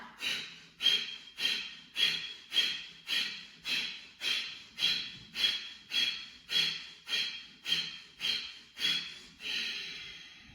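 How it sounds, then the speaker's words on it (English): Forceful rhythmic breaths pumped through the nose with the mouth closed during a chest-breathing yoga exercise, about fifteen sharp evenly spaced bursts in a steady beat, close and loud, with no talking over them. "It's a chest breath. The belly's pumping in and out."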